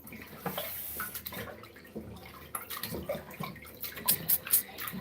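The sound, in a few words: water running from a tap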